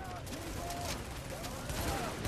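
SMG gunfire during a firefight in The Division video game, heard as rapid bursts of shots crackling at moderate distance over a busy low rumble, fairly quiet overall and steady throughout.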